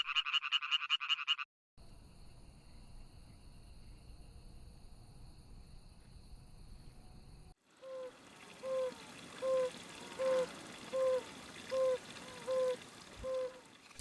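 Male Italian tree frogs call on a spring night in rapid rhythmic bursts, first a quick rattling chorus, then a steady series of evenly spaced croaks, with insect-like trilling and faint ambient hum between.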